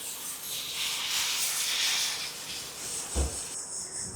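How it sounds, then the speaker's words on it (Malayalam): Tamarind water poured into a hot pan while making bitter gourd pickle, giving a steady bright hiss of steam and sizzle, with a soft low thump near the end. "ശേഷം നമ്മൾ പുളിവെള്ളം ഒഴിച്ച് കൊടുക്കാം"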